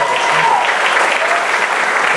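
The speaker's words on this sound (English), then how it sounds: "give a round of applause to our wonderful staff and our wonderful academic advisors" Steady applause from a graduation audience honouring staff and academic advisors, a dense, even wash of clapping filling the room throughout.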